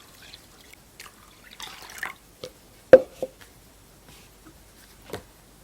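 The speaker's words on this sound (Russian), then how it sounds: "И сюда же добавляю воды." Water poured into a pot of grain for a village-style sour soup, heard as soft intermittent drips and small splashes with a few sharper plops, close and fairly quiet.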